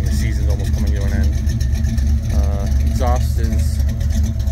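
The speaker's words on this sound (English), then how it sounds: "Exhaust is a little different from when this was last videoed. It's uneven still, it needs to be adjusted, but it is running headers now" A C3 Corvette engine fitted with headers runs with an uneven exhaust, a loud low rumbling idle close by, while someone talks over it.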